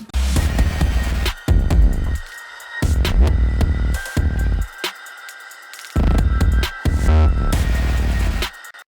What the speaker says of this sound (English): So I created an aggressive beat for this part